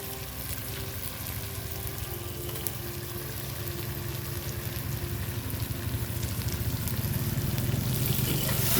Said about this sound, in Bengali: তো ফ্রাইড হয়ে গেছে, এবার আমাদের এক পিস করে মাংসগুলো দিয়ে দেবো।